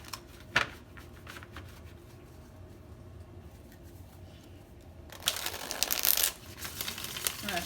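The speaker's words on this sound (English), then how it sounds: "I'm going to shuffle one more time." Tarot cards are shuffled by hand, a quiet papery riffle and shuffling in short bursts that grows louder and busier toward the end, with a soft voice in the background.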